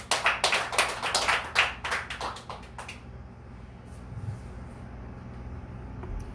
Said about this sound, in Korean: 우리 하나님께 영광의 박수를 올리겠습니다.